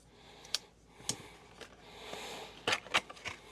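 A Benchmade knife slices through packing tape on a cardboard camera box, giving a few quiet, close, sharp scratchy zips and clicks separated by short pauses, with no talk.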